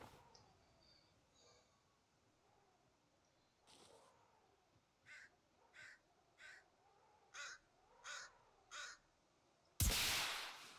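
A bird caws several times in The Forest video game, a run of evenly spaced, moderately loud calls that ends with a sudden loud burst.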